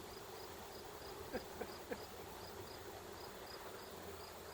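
Honeybees shaken down into the brood chamber during a fall hive inspection hum in a soft, steady buzz, with a few light knocks of the frame partway through.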